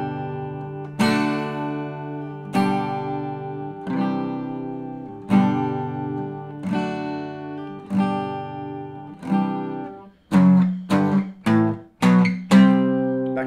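Guitar chords for the bridge of a song, strummed slowly with each chord left to ring and decay, then a quicker run of short strums near the end, close and clear without speech.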